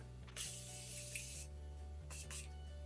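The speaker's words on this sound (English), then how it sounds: "I have to go in with my Morphe setting spray and just finish her" Several short hissing bursts of makeup setting spray misting, close and bright, with pauses between them over a low steady background hum.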